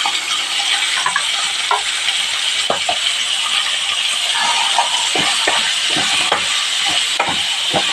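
Masala paste with green chilli and onion sizzles steadily in a hot pan, a bright constant hiss broken by scattered pops and crackles and a few scraping stirs, with no talking.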